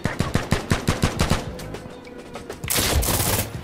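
A weapon in the video game Insurgency Sandstorm fires a close, loud burst of about a dozen evenly spaced rapid shots. A brief lull follows, then a sustained noisy blast.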